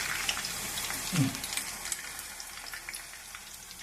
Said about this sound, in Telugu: పచ్చిమిర్చి ఇవి కూడా కానీ వేయించాలి